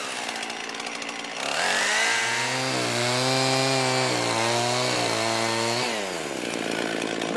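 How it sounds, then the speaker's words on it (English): A chainsaw revs loudly up close, its pitch dropping and straining as it bites into wooden logs, then easing back to idle. "Next, we'll just get our chainsaw and"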